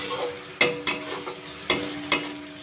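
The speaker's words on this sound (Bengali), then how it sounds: "গ্যাসের ফ্লেমটা বাড়িয়ে মশলাগুলো ভালো করে কষিয়ে নেব" Spices sauté in hot oil over a high gas flame, a steady close sizzle broken by about five sharp scrapes and knocks of a spatula stirring the pan.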